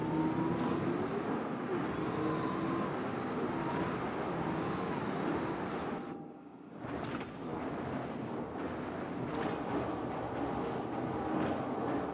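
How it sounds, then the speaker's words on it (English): Ground vehicle driving onto a ship's landing pad in Star Citizen, a continuous engine rumble and rolling noise with a brief dip in the middle before it resumes steadily. "I drive it onto the pad and into my ship."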